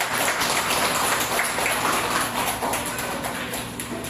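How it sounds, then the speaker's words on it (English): A church audience at a Lord's Day sermon clapping, steady dense applause that holds for several seconds at moderate volume and fades slightly toward the end. "Everybody clap."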